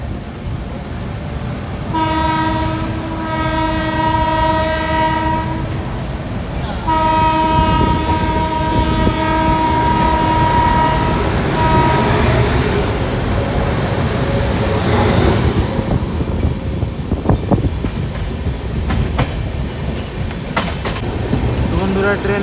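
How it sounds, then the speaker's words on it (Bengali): An Agniveena superfast express pulls out of Andal station and builds speed, sounding its horn in long repeated blasts over a loud, steady rumble and clatter of wheels on rails, heard close from on board. "বন্ধুরা এখন আমাদের ট্রেন বেরাচ্ছে আন্ডাল থেকে।"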